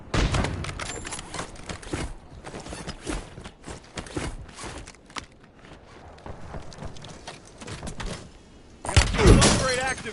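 Video game gunfire crackles in rapid bursts and scattered single shots with footsteps throughout, ending in a louder volley near the close, with a voice talking at times.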